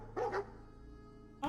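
A dog companion barks in Fallout 4: two quick, close barks, a pause over low background hum, then one more bark at the end.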